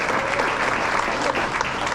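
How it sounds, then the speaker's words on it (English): Audience applause for two basketball team captains at a high school basketball banquet, steady dense clapping filling the room for the whole stretch, loud and close with a faint murmur of voices mixed in. "Give a round of applause."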